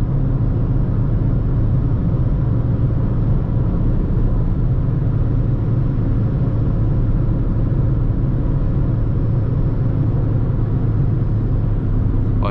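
Interior of a 2024 Peugeot 208 1.6 automatic cruising on a highway, a steady loud low rumble of road and engine noise, constant throughout with no distinct changes.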